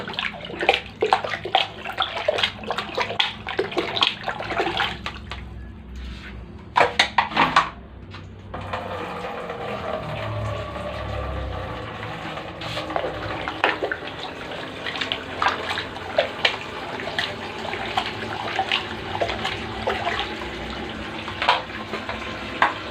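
Water slowly drains from a clogged toilet, a close sloshing and trickling flow with intermittent knocks and clatters, briefly interrupted by louder bangs before a steadier watery rush continues to the end.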